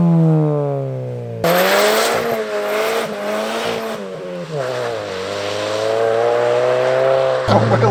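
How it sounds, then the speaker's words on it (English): A supercharged Mini Cooper S Works GP1 engine revs up hard at a launch, a loud rising and falling snarl with supercharger whine, then wheelspin and a sustained high-revving drone, close to the car with someone talking briefly. "put it in first, build the revs a little bit"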